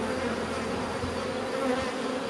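Honeybees swarm and buzz steadily around an open hive during a spring inspection, a dense, continuous drone close by with no voices.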